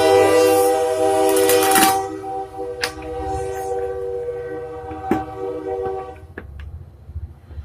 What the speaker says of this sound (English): This is the second train that's gone by.